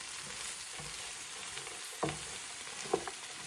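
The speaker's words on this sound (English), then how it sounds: "as this cabbage starts cooking, we can start mixing more" Cabbage fries and hisses in a hot pan for a keto dish, a steady close sizzle broken by a few louder scraping stirs of the utensil, with no talking.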